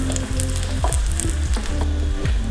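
Potatoes fry in a pan with a steady sizzle and occasional stirring or flipping clatter, close and continuous, with no voices.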